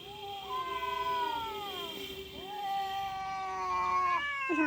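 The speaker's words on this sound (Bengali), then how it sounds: "কত বড় বিড়াল দুটো না" Two big cats meow and caterwaul close by, with long, drawn-out wavering yowls, one after another, and a third call starting at the end, over a quiet room.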